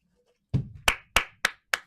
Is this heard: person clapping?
yes